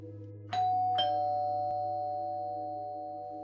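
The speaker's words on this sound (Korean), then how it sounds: "초인종이 울렸다" A doorbell chimes twice in a ding-dong pattern, each tone ringing out and slowly decaying over a low steady indoor hum, with no voices.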